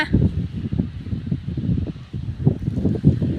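Gusty wind ahead of a rainstorm rumbles against the microphone in uneven low bursts, swelling and easing, with no talking.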